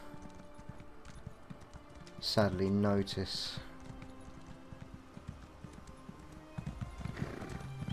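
Horse hooves galloping in The Elder Scrolls Online, a steady close clip-clop running throughout, with a loud whinny partway through and a voice speaking briefly over the riding.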